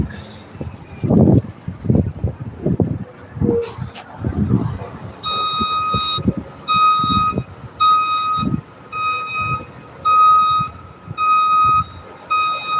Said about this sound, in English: Oh, the garbage truck is getting a bin.